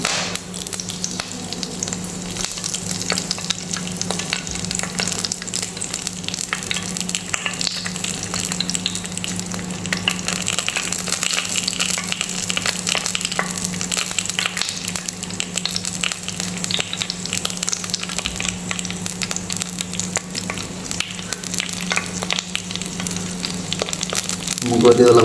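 Curry leaves frying in hot oil in a pan for a fish curry, a steady dense sizzle and crackle lasting throughout, loud and close, with a faint low hum beneath and no speech.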